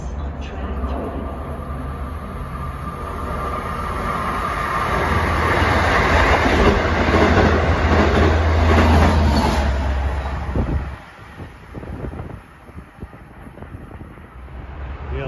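A Long Island Rail Road train, number 659 from Port Jefferson to Jamaica, racing through Elmont on track 3 with a loud, steady roar and wind rush that cuts off abruptly near the end, leaving quieter rattles and clatter.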